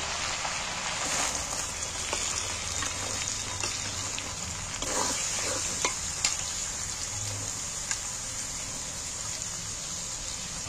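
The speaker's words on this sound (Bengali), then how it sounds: "এবার আমি কাটা পেঁয়াজগুলো এর মধ্যে তুলে দিচ্ছি।" Chopped onions are stirred in hot oil in a pan while chicken is being cooked, giving a constant frying sizzle broken by scraping spatula strokes and a few clinks, close and steady with no talk.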